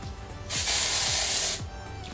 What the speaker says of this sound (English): And then I'll do the back, and then I spray.